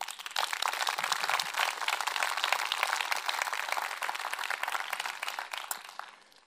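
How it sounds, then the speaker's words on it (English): Dense audience applause fills a startup demo day event, steady and sustained for several seconds before tapering off at the end. "I just want to have a big round of applause for those guys"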